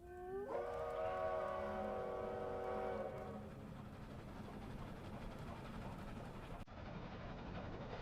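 A train rolls along in the Roblox game Dead Rails, a steady loud rumble with a harmonic whistle-like tone at the start that fades into continuous rolling noise.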